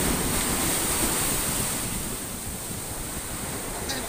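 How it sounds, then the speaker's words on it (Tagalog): Ocean waves churned up by Typhoon Odette roar continuously under strong wind, with heavy gusts buffeting the microphone and the surf a dense, unbroken wash. "Ang alon, lalong lumaki, lalong lumakas"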